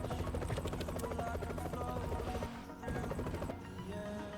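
A police helicopter in the Roblox game ERLC gives off a loud, steady rotor drone that runs the whole time, with a brief dip partway through.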